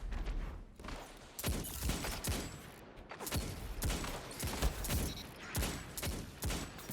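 Dire Promise hand cannon firing in a Destiny 2 Crucible match: a run of sharp, heavy shots spaced roughly a second apart, loud and close over a busy game-combat background.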